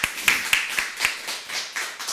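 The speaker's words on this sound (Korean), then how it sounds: "우리 하나님께 영광의 박수 올리겠습니다." Applause bursts from a congregation at a Korean Full Gospel church Sunday worship service, a run of sharp claps building into sustained clapping, fairly close and moderately loud.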